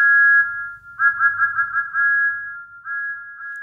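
A steam engine in a children's cartoon sounds its whistle, a clear high pure tone in one long blast followed by a run of quick warbling toots and two short final blasts, alone and close.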